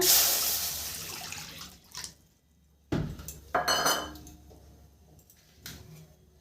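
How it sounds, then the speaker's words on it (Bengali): A bowl of water poured out while cooking a pressure-cooker pitha, with a splashing pour followed by clinks of a metal bowl and utensils, then a few more short clatters, close and fairly quiet. "জলটা এক বাটি জল দিয়ে দিলাম"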